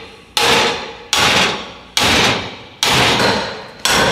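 A hammer slams five times into an abandoned metal safe, each loud, heavy clang ringing out and slowly decaying before the next blow, at a steady pace of a bit under one strike per second.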